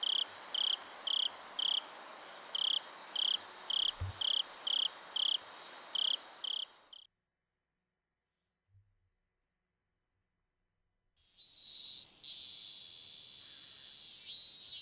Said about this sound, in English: The voices of the cicadas permeating my room were somehow grating to my head.